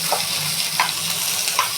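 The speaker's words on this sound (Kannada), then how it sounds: "ಇದು ಕೆಂಪು ಬಣ್ಣ ಬರೋವರೆಗೂ ನಾವು ಫ್ರೈ ಮಾಡೋಣ." Tomato and coriander leaves frying in a pan for mutton sambar, a soft continuous sizzle with a few evenly spaced spoon scrapes as the mixture is stirred.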